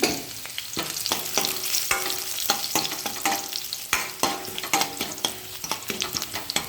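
Shallots, garlic and dried red chillies fry in hot oil in a pan, a continuous close sizzle punctuated by repeated sharp scraping stirs at an irregular rhythm, with no voices.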